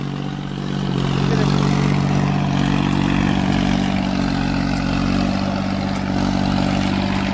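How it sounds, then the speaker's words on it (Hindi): A John Deere 36 HP tractor pulls a sugarcane weeder through a field, its engine a steady, loud, continuous drone with a low harmonic hum throughout. "तो भाई जॉन डियर का 36 HP का ट्रैक्टर है।"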